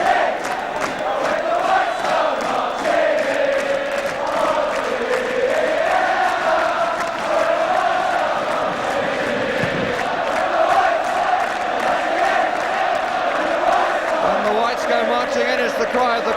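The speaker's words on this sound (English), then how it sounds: "It's the cry of the crowd" A football crowd roars at Tottenham versus Newcastle in the 1976 League Cup semi-final first leg. The sustained, loud stadium roar runs the whole way, with a commentator talking over it.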